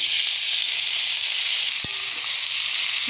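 Vegetables hit hot oil with mustard paste, green chilli and turmeric, giving a loud, steady sizzle close by. A single clack of a utensil cuts briefly through the frying hiss.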